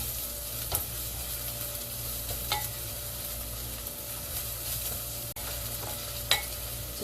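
Green onion leeks frying in perilla oil, a continuous close sizzle with occasional light utensil taps and stirs, steady and even throughout, no talking.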